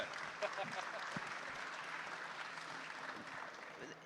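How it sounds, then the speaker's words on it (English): Audience applause at a Bitcoin conference livestream, steady clapping throughout with speech-like activity mixed in beneath it. "Give a round of applause."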